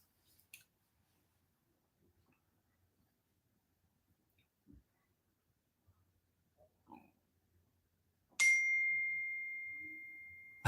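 A text message notification gives a single bright ding that rings out and slowly decays. Before it are several seconds of near silence with a few faint clicks and taps.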